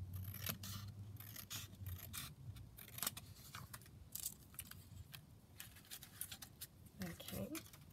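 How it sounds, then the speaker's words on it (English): Scissors trimming down the edge of a paper piece for a junk journal pocket, a few crisp snips and scrapes heard close up over continuous nearby speech. "I'm going to trim down this edge slightly"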